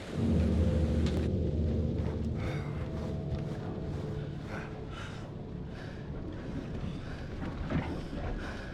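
A thunderstorm in the horror game Man of Medan rolls in with a heavy, loud rumble of thunder at first, fading into continuous rain on surfaces that stays steady throughout.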